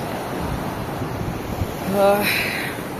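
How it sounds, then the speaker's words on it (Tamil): Fast-flowing water of the Noyyal River near Coimbatore roars steadily and broadly, dense and continuous, with a brief tonal voice-like sound partway through. "தண்ணி எவ்வளோ ஸ்பீடாக போகுது பாருங்க"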